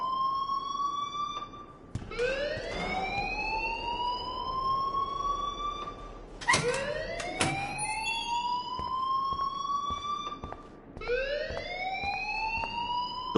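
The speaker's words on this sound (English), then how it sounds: "please turn off that alarm since that's your job" Fire alarm in the Life Is Strange video game, a repeating rising electronic whoop that sweeps upward in three loud cycles, steady and close with no talk over it.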